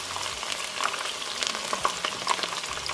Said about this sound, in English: now I'm just going to add my onions to the oil